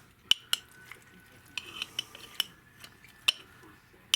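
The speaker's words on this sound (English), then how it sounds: "take the spoon I have, and we're just going to empty the contents of this jar" Spoon scraping and tapping inside a glass jar of home-canned macaroni and cheese, a few sharp clinks and soft scoops spaced irregularly, close and fairly quiet.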